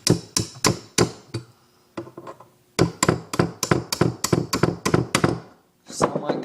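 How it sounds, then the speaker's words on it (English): A series of sharp metallic hammer strikes on a punch, driving pins out of a Ruger 10/22 bolt, close and loud, in quick bursts with brief pauses between groups of blows. "I'm just going to take my puncher and just a hammer."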